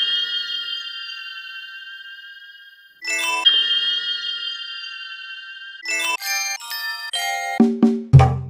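Synthesized bell tones played on a Maschine ring out in long sustained chimes, then give way to a quick run of shorter bell hits that drop lower and end in a few punchy notes.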